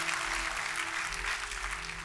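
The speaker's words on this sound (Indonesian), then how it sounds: "Kita kasih tepuk tangannya yang meriah buat Tuhan kita" Congregation clapping in a church, a continuous moderate wash of applause under a low steady hum, with faint voices.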